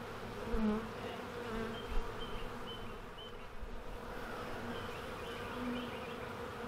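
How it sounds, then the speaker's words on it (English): Honeybees fan inside a hive during an oxalic acid wand varroa mite treatment, giving a dense, continuous buzzing hum. It is steady and close and stays low in level throughout, with no speech. "I can also hear them fanning inside there."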